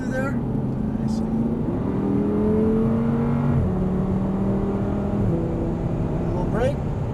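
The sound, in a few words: Audi R8 engine revving under throttle on track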